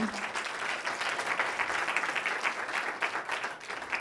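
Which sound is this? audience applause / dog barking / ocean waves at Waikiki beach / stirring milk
audience applause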